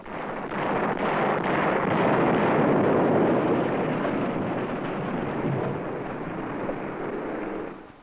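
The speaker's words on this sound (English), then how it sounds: "B-26 bombers of the Cuban Exile Air Force attack Castro's airfield." Archival recording of B-26 bombers attacking an airfield in Havana at dawn: a continuous, heavy roar of engines and blasts that swells and holds for several seconds before cutting off sharply near the end.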